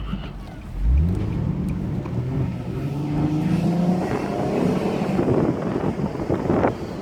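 Engine drone and road noise from a 2016 Nissan 370Z Roadster Touring Sport driving with the top down, a steady low rumble that rises in pitch as it accelerates, with wind buffeting throughout.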